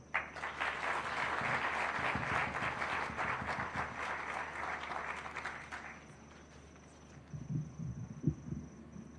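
A crowd applauds steadily for several seconds at Google's 15th anniversary event in Kenya, then the clapping fades out and a few scattered sounds follow.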